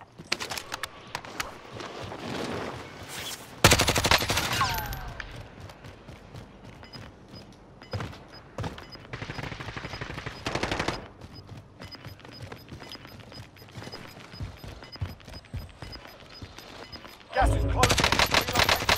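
Video game gunfire, with rapid bursts of automatic shots in irregular clusters separated by quieter stretches and game ambience, moderately loud throughout.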